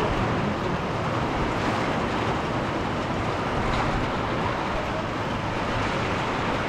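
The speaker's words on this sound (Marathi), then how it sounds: "पाऊस लय जास्त चालू झालाय बघायला तुम्हाला." Heavy rain pours down at a roadside stop, a dense, unbroken roar of falling water that stays loud and even from start to finish, with no voices over it.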